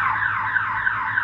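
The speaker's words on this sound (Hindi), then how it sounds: "हॉर्न बजा दूं" A scooter horn sounds at night in Delhi as a loud, continuous electronic warble that repeats about four times in quick succession, with no talking.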